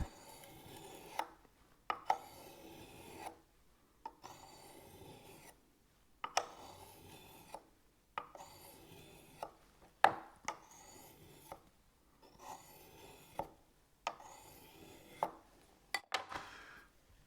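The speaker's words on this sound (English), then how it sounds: "I'm using as much of the length of the stone as I can so as not to wear a spot in it" A pruning tool blade is drawn along a sharpening stone in long, even strokes, about eight rasping passes spaced roughly two seconds apart, each ending in a sharper scrape, quiet and close with no talk.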